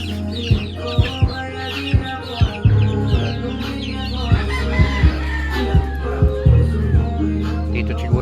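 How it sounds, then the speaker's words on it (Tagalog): Hens cluck close by among their many chicks, with repeated short sharp knocks or pecks and a rooster crowing now and then in a busy farmyard. "Dami na yung sisiw natin guys."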